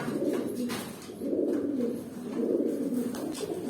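A pigeon coos close by in three rolling, throaty bursts with short dips between them, steady and moderately loud, and no one speaks.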